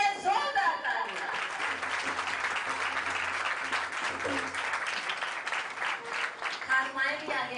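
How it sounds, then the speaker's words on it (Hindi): A church congregation breaks into loud, sustained applause, a dense wash of many hands clapping at a steady level, with a few voices faintly mixed in. "यीशु मसीह के लिए जोरदार तालियां।"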